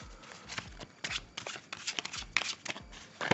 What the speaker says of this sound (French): vous présentez un jeu de 52 cartes et vous faites mélanger le jeu par le spectateur